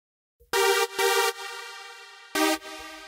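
Synth notes in FL Studio with reverb sidechain-ducked until it fully shuts off: three bright, abrupt chord stabs with a dry quiet sustain between them and hard cut-offs, loud and isolated.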